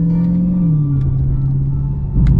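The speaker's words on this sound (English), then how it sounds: "the downshifts with the Supercharger are ridiculous" A supercharged 2020 car fitted with an LMI intake, a loud steady engine drone with a sustained whine whose pitch dips as it downshifts, then rises slightly at the end.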